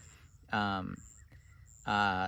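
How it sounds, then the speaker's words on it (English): Outdoors at dusk, two loud, harsh crow-like caws ring out close by, each about half a second long, with faint higher bird calls in the background. "And I'm outside right now. There's a lot of birds"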